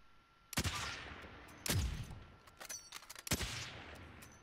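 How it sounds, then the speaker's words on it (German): Three loud gunshot bursts in Call of Duty: Modern Warfare, each with a sharp crack and booming tail, plus a scatter of quicker, lighter shots between them, close by with no talking. "Rechts von mir geschossen."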